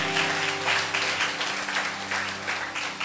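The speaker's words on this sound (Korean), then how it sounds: "주님께 영광의 박수 다시 한번 올려드리겠습니다" A church congregation applauds during a sermon: a steady, dense wash of clapping throughout, with low sustained tones humming underneath.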